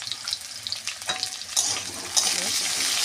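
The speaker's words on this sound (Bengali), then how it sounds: "আলুটাকে আমি লাল করে ভেজে দেবো।" Potatoes frying in a pan with cumin seeds and a pinch of turmeric, a steady close sizzle that swells louder midway as the pieces are stirred and tossed.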